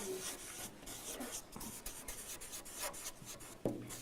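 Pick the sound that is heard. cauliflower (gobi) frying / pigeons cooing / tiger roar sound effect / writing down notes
writing down notes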